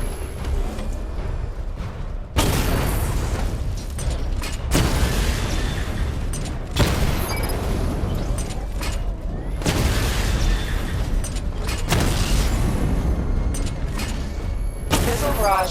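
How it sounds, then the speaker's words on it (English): Heavy booming blasts from a missile barrage in Batman: Arkham Knight, coming in several loud, dense bursts of a few seconds each with brief lulls between them. "Charge the missile barrage to level 2 to destroy up to 4 targets at once."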